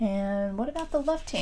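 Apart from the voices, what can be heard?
None of the usual background noises is heard.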